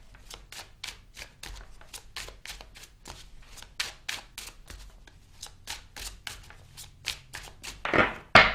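Tarot cards are shuffled by hand in a steady series of crisp riffles and slaps, close and soft, repeating regularly and ending with a louder burst, with no talk.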